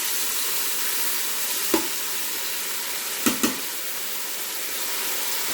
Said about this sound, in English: We're going to let it sear on that side